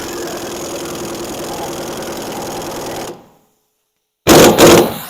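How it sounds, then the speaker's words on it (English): An impact gun with a socket drives a lug nut onto a long rear wheel stud of a Mazda Miata MX-5 spec race car. A steady buzzing rattle runs for about three seconds, drops to silence, then returns in two short, loud bursts. "I got an impact gun and a socket. And what I'm going to do is I'm just going to tighten up the lug nut"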